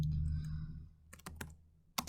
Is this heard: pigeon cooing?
no